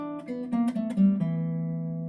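A guitar plays three quick notes as a triplet, fretted third, second, then open string, each clearly picked, with the last note left to ring out alone.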